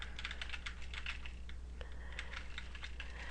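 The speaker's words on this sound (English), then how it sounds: "you can go ahead and type in the web address of the site" Typing a web address on a computer keyboard: a quiet run of rapid, light key clicks, fairly close, with no one talking.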